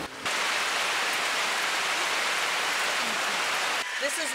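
Steady rain falls as an even, close hiss of drops on surfaces, continuing without a break for several seconds.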